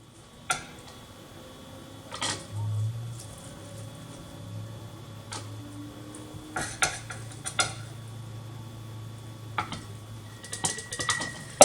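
Spoon scrapes and sharp clinks against glass as cooked meat is packed into canning jars, scattered clatters and taps at irregular intervals over a low steady hum, close and fairly quiet.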